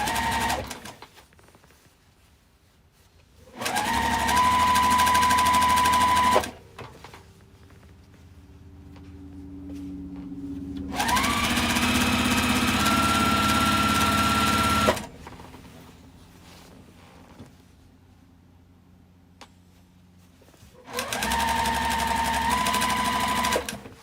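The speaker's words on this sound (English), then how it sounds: "I'm just going to just sew these together and not do anything too complicated." A sewing machine stitches fabric pieces together in three loud, close bursts of steady whirring, each a few seconds long, separated by quieter gaps of handling and faint room noise.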